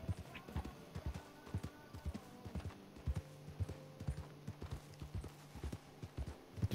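Steady, rhythmic horse hooves clip-clopping at a walking pace in Red Dead Online, moderately close, over a faint background hum, like game sound effects.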